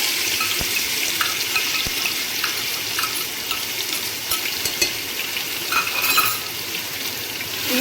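Chopped green chili, ginger and garlic stirred in a pan over a medium gas flame, giving a continuous bright sizzle with faint scraping of the spoon throughout.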